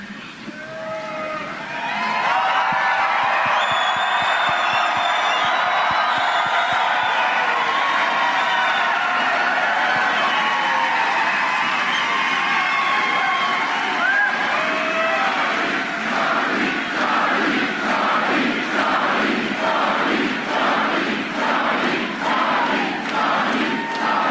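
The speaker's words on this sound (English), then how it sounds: "Let's cheer it up real loud for Charlie." A large crowd at a Turning Point event at UT Valley University cheers and yells loudly for Charlie Kirk, a sustained roar building quickly and holding steady, with rhythmic chanting surges toward the end.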